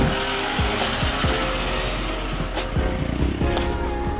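A car engine revs and pulls away, with tires squealing briefly and the motor sound fading as it leaves.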